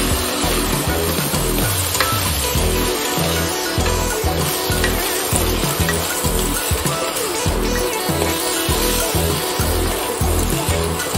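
Rice sautéed with whole spices for a colorful veg pulao, stirred in a pot with a steady rhythmic scraping and dense sizzle, close and continuous.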